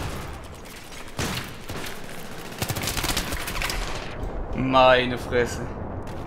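Gunfire in the video game Battlefield 3 during a close-quarters match. Scattered bursts of shots cut through noisy battle ambience, and someone speaks briefly.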